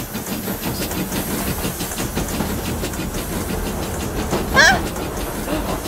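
A train rumbles past in the Roblox game Jailbreak, a steady hissing, clattering bed of noise with a brief shrill squeal near the end, heard without clear speech.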